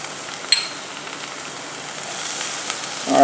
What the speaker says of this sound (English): Basically, you're just sauteing vegetables, and you just want to bring it down again so they're soft and mushy.